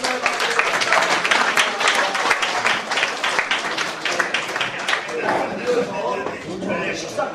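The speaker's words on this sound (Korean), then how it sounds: "우리 노회장님들 뜨거운 우리 환영의 박수 한번" Welcoming applause from attendees at a Korean Presbyterian regional presbytery gathering, a loud, dense burst of clapping that gradually thins while a voice talks over it.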